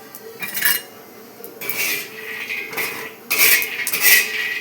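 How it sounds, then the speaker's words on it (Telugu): Peanuts are stirred and tossed in a pan on a stove over low to medium flame, with bursts of scraping, rattling and clinking against the metal at close range. "దానికైతే ఫస్ట్ కొన్ని పల్లీలను అయితే వేపుకుందాం పెన్నం మీద"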